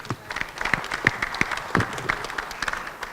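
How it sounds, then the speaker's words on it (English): Scattered audience applause at a panel discussion on health access, with individual claps ringing out moderately loud through the room and a murmur of voices underneath. "She needs an applause for this."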